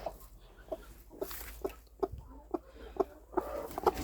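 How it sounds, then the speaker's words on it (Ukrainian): A farmyard hen clucks in short repeated bursts at a steady, uneven rhythm, close and fairly clear over low background noise, with no talk. "Дивися, яка дурна курка!"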